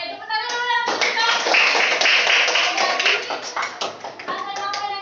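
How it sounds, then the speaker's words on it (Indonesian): Schoolchildren in a primary classroom clap their hands together in a dense, fairly loud round lasting several seconds, with a few young voices and tonal sounds mixed in. "Oke, tepuk tangan dulu yang sudah."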